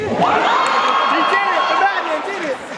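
Convention hall audience at an anime Q&A panel roars with sustained cheering, whoops and shouts, loud and dense throughout, with excited voices rising above the crowd noise.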